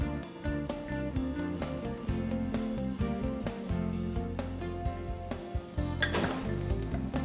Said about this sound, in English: And we'll saute this for another minute or so.